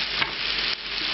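Vegetables and mushrooms sizzle in a stockpot over browned chicken, a dense continuous frying hiss with a couple of brief stirring bumps.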